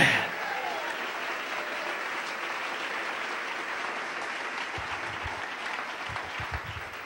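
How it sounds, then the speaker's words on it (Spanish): A church congregation claps for the King during an evening service, a sustained even roll of many hands at moderate volume, with a few low thumps near the end. "Den un aplauso al Rey en esta preciosa noche"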